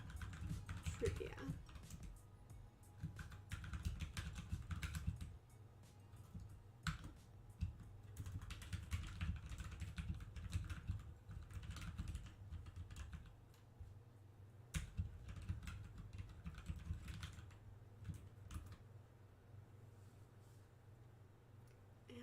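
Computer keyboard typing in irregular bursts for a giveaway trivia card, soft clicks over a low room hum, with someone talking quietly at times.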